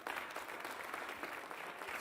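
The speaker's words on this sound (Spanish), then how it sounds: "Vamos a darle un fuerte aplauso." Church congregation applauding during a sermon, a steady, dense wash of many hands clapping throughout, fairly close and even in level, with no talk over it.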